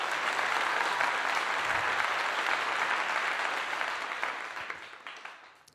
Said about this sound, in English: We have a round of applause for that